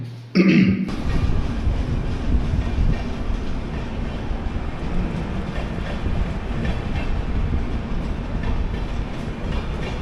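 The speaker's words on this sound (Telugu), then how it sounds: "ఒక ట్రైన్ పోతా ఉంది" A train rumbles past close by, a loud, steady roar of wheels and carriages that fills the whole clip after a brief opening noise.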